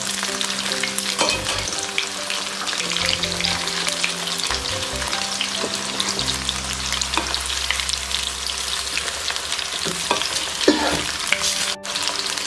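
Seer fish pieces deep-fry in hot oil for a fish biryani, giving a loud, steady, close crackling sizzle with occasional stirring or turning noises and no voices.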